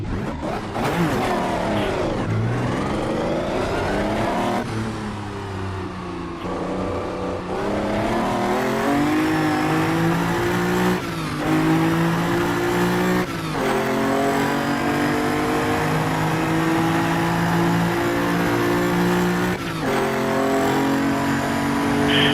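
A Gran Turismo 7 spec series race car engine roars and revs continuously, pitch climbing through gears and dropping on shifts, loud and close with no voices.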